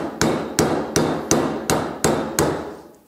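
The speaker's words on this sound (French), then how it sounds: "Si je plie mon zinc avec le marteau, ça fait ce bruit-là." A tinsmith's hammer strikes zinc sheet while bending it, giving six sharp, evenly spaced metallic blows about every third of a second, each ringing briefly before the next, loud and close with no talk.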